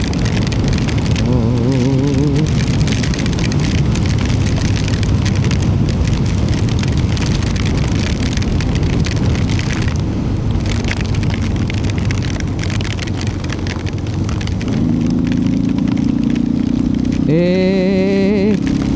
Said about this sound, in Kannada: ಮಳೆ ಬರ್ತಾಯಿದೆ.